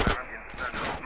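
Pistol gunshots in GTA San Andreas, a few sharp cracks fired in quick succession, close and punchy, with a brief gap between the first shot and the later ones.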